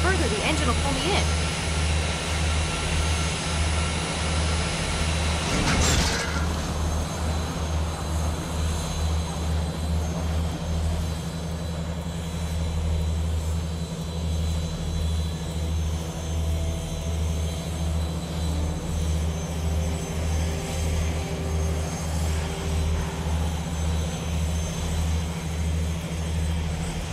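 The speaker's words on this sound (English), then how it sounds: "If I lean out any further, the engine will pull me in." In the video game Technobabylon, an aircraft engine roars without a break and throbs steadily, with spoken dialogue heard over it.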